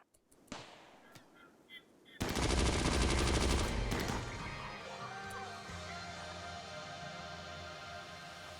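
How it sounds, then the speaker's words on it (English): Gunfire from the colony-building video game Rimworld, a dense burst of rapid overlapping shots lasting about two seconds, then a lingering rumble of the battle, with a few faint earlier pops. "We gotta give her some covering fire."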